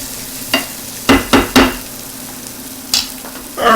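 Mushrooms fry in a pan for chicken marsala: a steady low sizzle under several distinct stirring clatters, two or three close together, then a couple more spaced out.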